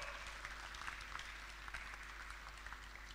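Applause from an audience greeting the Warsaw vice-mayor at the opening ceremony of Video Arena Ursynów 2015, a steady, moderately loud clatter of many hands clapping throughout, with a low background hum.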